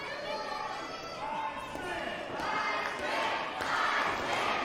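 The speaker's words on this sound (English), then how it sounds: "Crowd is rallying to the support of the Iceman." A wrestling crowd rallies and cheers for the Iceman during a tag-team match, a dense, steady roar of voices with swelling shouts that build louder toward the end.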